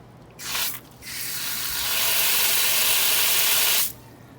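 Fresh water from an RV park hookup spray bursts on briefly, stops, then gushes in a loud, steady hiss before cutting off sharply.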